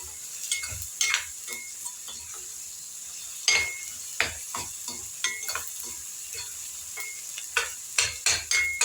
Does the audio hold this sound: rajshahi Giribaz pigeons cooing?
no